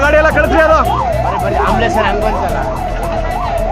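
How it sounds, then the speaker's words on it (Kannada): An ambulance siren wails in a steady rising-and-falling cycle at a highway accident scene on the Bengaluru–Mysuru Expressway. It is loud and close throughout, with people talking over it. "ಆಂಬುಲೆನ್ಸ್ ಬಂದಿದೆ."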